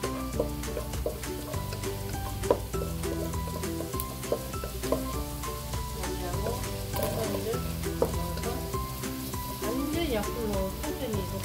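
Garlic, king oyster mushroom and eggplant sizzle and crackle in a pan over low heat, with steady frying noise and the occasional clatter of stirring.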